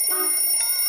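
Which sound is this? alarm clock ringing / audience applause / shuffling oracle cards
alarm clock ringing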